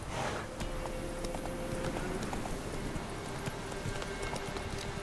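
Roach, the horse in The Witcher 3, clip-clops along in a steady hoof rhythm, close and fairly even over a low ambient game backdrop.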